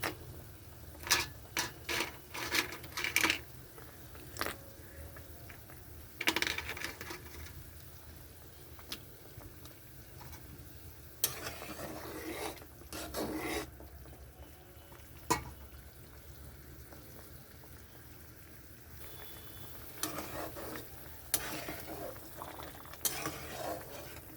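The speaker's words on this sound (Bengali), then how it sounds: "বড়িটা দিয়ে একটু ফুটাতে হবে" Pabda fish curry simmers in a pan with bori lentil dumplings added, giving a steady low bubbling and sizzle, punctuated by clinks and scrapes of a spoon against the pot.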